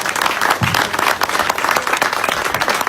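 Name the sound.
applause at press conference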